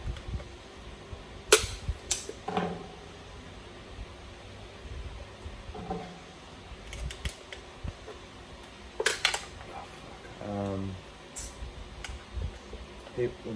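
Allen wrenches working tight screws loose on a Rovan LT 1/5-scale gas RC car, giving scattered close clicks, small knocks and a brief creaking squeal against a quiet room background.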